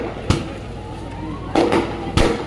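Firecrackers burst outdoors during a political rally, three sharp, loud cracks spread apart, the later two coming in quick doubled pops, over a low murmur of crowd and background noise.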